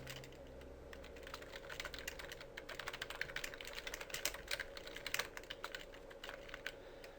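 Rapid keystrokes clatter on a computer keyboard, an uneven burst of close, quiet clicks running almost continuously, with no voices over them.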